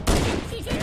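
Rapid automatic weapon fire from Halo: Combat Evolved Anniversary on the Pillar of Autumn level, a dense burst of loud gunshots with a faint voice briefly underneath.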